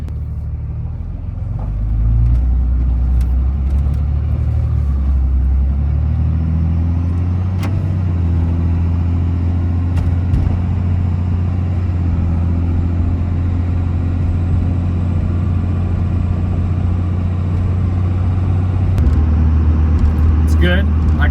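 A steady low engine and exhaust rumble from a 5.9 Cummins diesel pickup truck with its muffler deleted, cruising along, droning continuously with slight swells, fairly loud and close.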